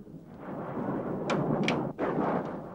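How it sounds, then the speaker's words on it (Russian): Thunderstorm thunder rolls as a heavy, continuous low rumble, with a few sharper cracks breaking through the sustained roar for nearly three seconds. "Слушай, гроза! Первая в этом году!"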